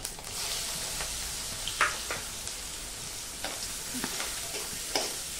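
Finely chopped onion and crushed garlic sauté in a hot tempering with turmeric, giving a soft, steady sizzle with occasional light stirring taps and no talking.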